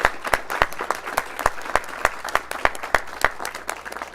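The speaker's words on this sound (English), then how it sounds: "Can we give them a round of applause?" An audience at a city council meeting in North Las Vegas claps steadily, the applause carrying sharp, distinct hand claps that stand out over the general clatter, with no talking.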